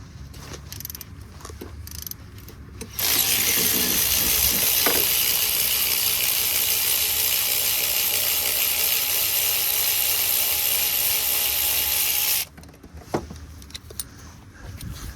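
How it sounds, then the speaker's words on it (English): An extra-long extended spark plug socket on a ratchet works on a Range Rover Sport HSE 5.0L V8, giving a loud, sustained metallic whirring rattle for about nine seconds between quieter clicks and handling noises. "this is where these extra long extended spark plug socket are very handy"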